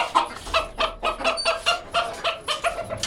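Desi hens on a rooftop cluck in short, repeated bursts close by, a lively uneven pattern of calls with no one speaking.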